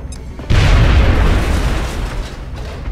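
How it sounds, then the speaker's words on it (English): A grenade detonates in the video game XCOM: Enemy Within, a sudden loud, heavy boom that bursts in abruptly and rolls into a sustained rumbling blast, fading slowly over a few seconds. "Might as well use your grenade."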